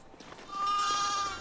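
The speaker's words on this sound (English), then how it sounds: "Baby sheep" A sheep bleats once in the farming game Foundation, a clear wavering cry that swells midway and lingers before fading, heard alone against quiet background.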